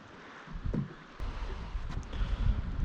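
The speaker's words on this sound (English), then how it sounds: "Wind wasn't forecast to be this strong." Strong gusting wind buffets the microphone while fishing on Lake Eildon, a steady low roar that swells louder in the second half, with faint water and boat sounds beneath.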